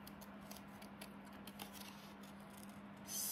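Scissors cutting paper for a collage, a quick run of soft, close snips and crisp rustles over a low steady hum, growing slightly louder near the end.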